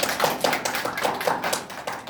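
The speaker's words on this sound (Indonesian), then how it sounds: "Udah, tepuk tangan dulu kita." A class of students claps together in a classroom, a fairly quick, steady run of rhythmic group claps at moderate loudness, with no one speaking.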